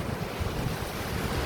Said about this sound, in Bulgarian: Водата е много бърза. Препуска.